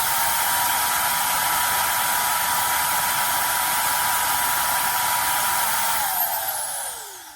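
A small brushless 100,000 RPM air duster motor, stepping through its trigger speed settings, blows air with a loud, steady, hissing whine, then winds down with a falling pitch at the end.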